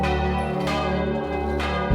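A church-type bell rings with a sustained, steady tone, rich in layered harmonics, loud and close with two fresh strikes renewing the sound, and no voices.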